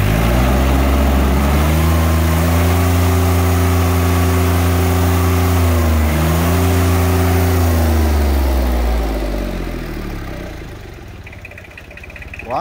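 A Yanmar 3T76 three-cylinder diesel engine runs steadily close by, its low, even idle drone holding through most of the stretch before easing slightly quieter near the end.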